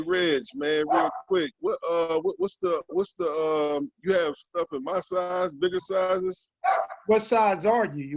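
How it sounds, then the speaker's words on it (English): A dog barks and yips repeatedly in the background of a home phone-style conversation, the barking mixed under and between steady close talk from a man. "Yeah, that's my dog making all this noise."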